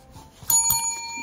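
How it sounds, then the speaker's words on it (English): A small bell rung twice in quick succession, two bright metallic dings with a clear ringing tone that lingers briefly after each strike, close and alone. "Ring that bell for my bib."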